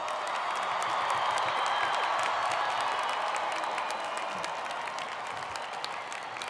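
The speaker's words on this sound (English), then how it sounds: "join in giving a hoot and holler to our newest Sun Devil graduates and another round of applause" Graduates at a Sun Devil fall convocation ceremony receive sustained, loud applause from a large crowd, with steady clapping and scattered cheers and whoops throughout.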